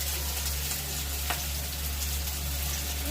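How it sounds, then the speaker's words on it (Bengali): Chopped onion fries in a pan, a steady close sizzle over a low hum, with a single faint clink partway through. "পেঁয়াজ কুচি, পেঁয়াজটাকে একটু ভালো করে ভেজে নেব"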